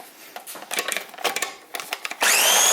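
An electric blender whirs in short bursts and then runs steadily and loudly, pulsing before settling into a continuous high whine as it purees Syrian cucumbers into a green Middle Eastern dip.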